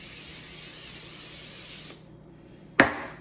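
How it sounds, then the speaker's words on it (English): Pam cooking spray hisses steadily onto a pan for about two seconds while grilled zucchini is prepared, then cuts off, followed by a short sharp clatter. "Spray it with Pam."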